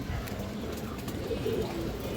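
Bagha pigeons coo softly and low beneath a constant hiss of background noise, with the calls faint and brief over a couple of seconds.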